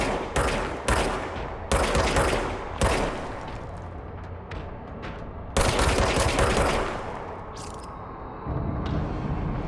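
Loud gunshots from a gun in the video game Control, several sharp single blasts followed by a longer burst of fire, each cracking out then trailing off with echoing decay.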